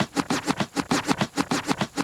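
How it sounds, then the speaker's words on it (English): Vinyl scratch sample in Logic Pro: rapid back-and-forth scratches in a steady rhythm of about eight strokes, each a brief swishing burst, close and moderately loud with no voices. "Okay. This is also vinyl scratch."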